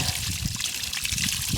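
Cooling water trickles and splashes steadily from the tell-tale outlet of a Mercury 90 hp four-stroke outboard motor, a continuous close liquid dribble with no talk.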